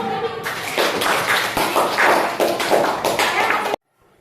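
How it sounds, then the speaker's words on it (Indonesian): A group in a school classroom session claps together in loud, close applause with uneven bursts, lasting a few seconds before stopping abruptly. "Tepuk tangan buat kami."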